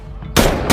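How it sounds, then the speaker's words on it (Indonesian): Gunfire from the 2019 film Anna bursts out suddenly and loudly as a short, harsh crack of sound, with a second blast starting right at the end. "Olga yang pergi keluar tanpa ampun langsung memberondong Anna dengan peluru"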